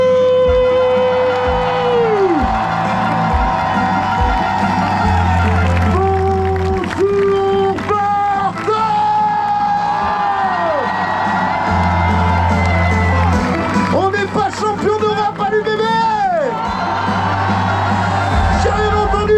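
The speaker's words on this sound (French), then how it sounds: "j'aimerais que vous fassiez un tonnerre d'applaudissements, une ovation, s'il vous plaît, pour Vincent Aubijoux." A large outdoor crowd at the Place des Quinconces fan zone in Bordeaux cheers, whoops and applauds continuously to welcome home the UBB rugby team as European champions, with tonal horn-like calls and a voice over the din.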